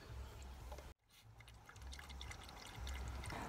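Water poured from a water bottle into its lid, used as a dish for a chihuahua on a mountain hike, making a soft, close trickle and splash over faint outdoor background.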